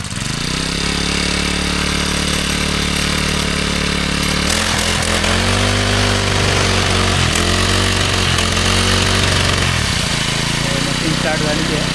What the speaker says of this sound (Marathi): मग मशीन स्टार्ट करतोय बघा कशा प्रकारे स्टार्ट करायची.